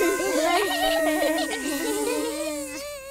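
Cartoon bees buzzing inside a beehive play area, a busy layered drone of wavering tones under playful childlike vocal sounds, steady and close throughout before thinning at the end.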